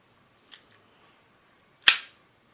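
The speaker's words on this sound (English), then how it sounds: "pull the bolt back a little bit, pull the trigger, and you've got it." A Ruger MK pistol being handled: a faint click as the bolt is pulled back, then a sharp, loud metallic snap as the trigger is dry-fired.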